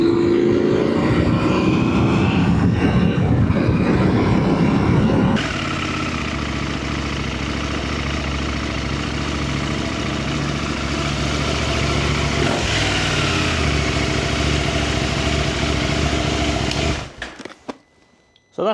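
A KTM 890 SMT motorcycle rides along with a steady, loud engine drone and wind rush, shifting tone partway through before slowing and cutting off near the end.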